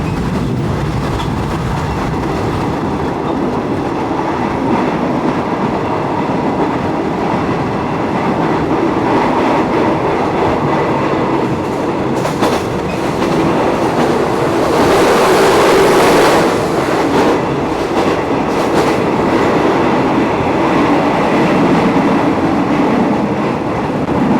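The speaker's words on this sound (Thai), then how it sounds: "ขบวน g 4 5กำลังจะเดินทางเข้าสู่ สถานีรถไฟ สุราษฎร์ธานีแล้วครับผม" An ordinary passenger train rumbles steadily with rattling carriages and clacking wheels, loud and continuous, a broad whooshing swell building midway as it rolls into Surat Thani station, Thailand.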